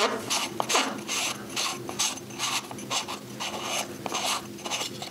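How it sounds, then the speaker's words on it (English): A K&F camera lens filter is being unscrewed, giving a close, repeated gritty ratcheting rasp in short rhythmic bursts as the threads turn. "let's screw that off"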